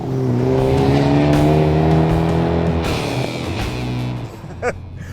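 A 2023 Hyundai Kona N turbo four-cylinder engine revs loudly and rises in pitch, a throaty exhaust roaring close by before easing off, with a sharp pop near the end.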